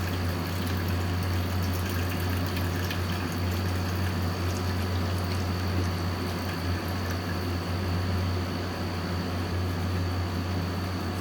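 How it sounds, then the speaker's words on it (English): Water drains out of an LG portable air conditioner through rubber tubing, a steady gurgling trickle with a constant low electrical hum beneath it, unbroken for several seconds. "It's like water coming out of somewhere else."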